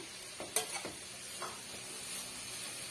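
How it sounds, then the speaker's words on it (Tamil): Beetroot stir-fry with grated coconut being sautéed in a pan, with a few scraping stirs of the spoon over a faint, steady sizzle, close and fairly quiet, with no talking. "தேங்காய் துருவல் சேர்த்துட்டு ஒரு டூ மினிட்ஸ்க்கு வதக்கி விட்டுக்கினாலே போதுமானது"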